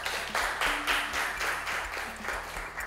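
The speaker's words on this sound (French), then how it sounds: "merci de l'applaudir également" A studio audience at a game show applauds and claps in rhythmic unison, a steady beat of about three claps per second over low background music, moderately loud.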